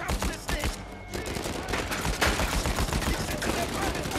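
Rapid, dense gunfire in the video game Uncharted 4 crackles almost nonstop as bursts and single shots overlap in a chaotic firefight that sounds close.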